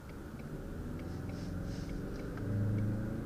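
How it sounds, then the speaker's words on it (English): A 2019 Ford Mustang EcoBoost driving, its engine and exhaust giving a low steady rumble heard from inside the cabin, rising slightly in level toward the end. "I think Ford did a good job with the exhaust on this one because it sounds better"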